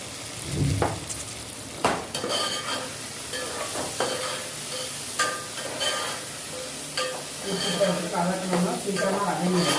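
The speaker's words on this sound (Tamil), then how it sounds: "வெங்காயம் கொஞ்சம் வதங்கட்டும்." Onions sautéing in a pan for a Tirunelveli-style chicken curry, with a steady close sizzle and frying hiss broken by stirring scrapes and spoon clinks against the pot, while someone talks over it.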